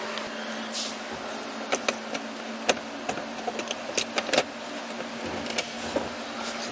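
A new Honda block-off plate is pressed into a gearbox-area opening on an Integra GSR, giving a handful of sharp, close plastic clicks and taps over a steady background hum, with no voices.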